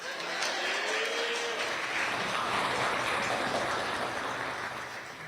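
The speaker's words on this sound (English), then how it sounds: "You can clap." Audience applause after a spoken-word poem performance, a broad, even roar of clapping from a sizable crowd that stays steady and full for several seconds before easing slightly at the end.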